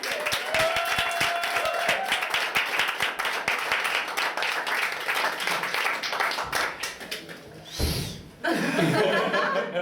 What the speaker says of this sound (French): Applaudissements pour Guillaume Mitolo, s'il vous plaît.